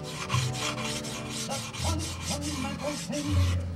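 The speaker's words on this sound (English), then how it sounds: "the Bernie Trent sandpaper is just about the right radius to get in there." Sandpaper rubs back and forth over the wooden fin of a model airplane, giving a close, steady rasping scratch in repeated strokes with no talk.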